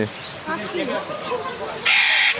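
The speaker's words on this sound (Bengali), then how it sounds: "এখানে হচ্ছে ইলেকট্রাস প্যারেট প্যারেটটা কী কয় ওই ভিতরে" An eclectus parrot at a zoo gives a few short harsh squawks, fairly close, mixed with someone talking and a sudden loud hiss near the end.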